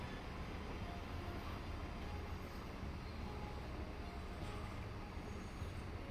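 Metro train idling at a station platform in the Transport Fever 2 game, a steady broadband rumble and hiss that holds evenly throughout with no clear arrivals or pauses.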